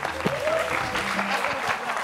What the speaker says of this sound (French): Applaudissez pour le frère, s'il vous plaît.